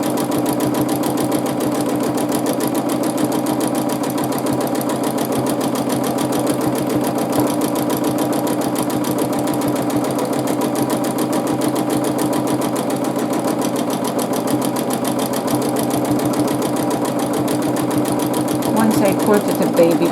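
A sewing machine runs steadily and continuously while free-motion quilting a stones and bricks pattern, its fast mechanical whir loud and close with no pauses throughout.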